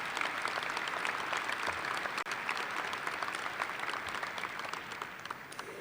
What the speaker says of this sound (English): let's give the choir, the orchestra, a big round of applause for their amazing talents